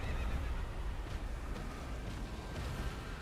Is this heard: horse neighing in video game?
yes